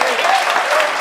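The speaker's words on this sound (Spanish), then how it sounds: "Fuertes aplausos a nuestro Dios." Loud, steady applause from a church congregation honoring God during a sermon, a dense wash of clapping that fills the whole moment without a break.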